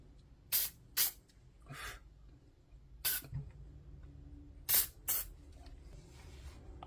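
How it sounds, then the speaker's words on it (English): Several short bursts of cleaning spray from an aerosol can, close by, hissing in quick pairs with brief pauses between them against a quiet room background. "I'll spray that a little bit."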